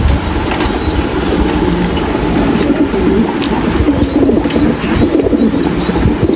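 A male and female pair of show pigeons coo softly at close range, over a constant rough background rumble and scattered rustling.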